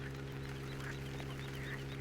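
Ambient birds in Farming Simulator 17 on the Racovita map give faint, scattered calls over a steady low mechanical hum that runs throughout.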